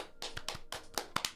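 A few sharp hand claps ring out in an uneven burst, several quick strikes spaced across about a second and a half, close and fairly quiet with no talk.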